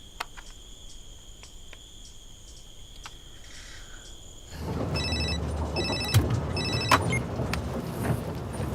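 A field telephone at a military post in a war-zone drama rings in repeated short electronic bursts, first alone in a quiet room, then continuing under a louder rush of background noise.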